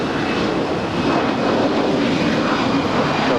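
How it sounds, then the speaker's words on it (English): A Boeing 787 Dreamliner jet lands on runway 25 left at LAX, its loud, steady engine roar filling the air with a faint high whine running through it. "Dreamliner landing here on 25 left here on the south side"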